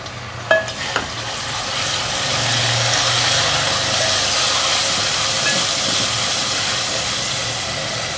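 Finely chopped, peeled tomatoes hit a hot pan of fried garlic and ginger for moong dal, setting off a loud, steady hiss and sizzle after a couple of brief clinks, running on without talk.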